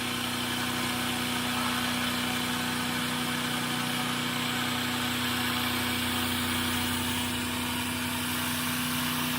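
A short-circuited magnetic generator spinning at 1830 RPM gives off a loud, constant mechanical hum with a strong steady tone and a dense whirring hiss, unchanging throughout with no voices.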